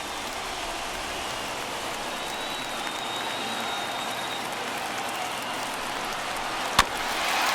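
Crowd of over 38,000 at a Giants–Dodgers baseball game in MLB The Show 21, a steady roaring cheer and applause filling the background throughout, with a brief sharp crack near the end.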